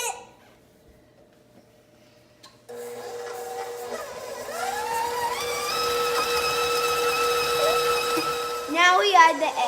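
Electric mixer beating brown sugar and granulated sugar for cookie dough, starting up after a quiet moment and then running as a steady whirring hum with a rising pitch, close and fairly loud.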